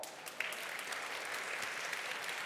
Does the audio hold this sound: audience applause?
yes